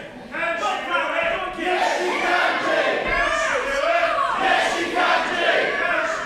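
A large wrestling crowd roars and cheers continuously, with shouts rising and falling in waves, loud and close throughout.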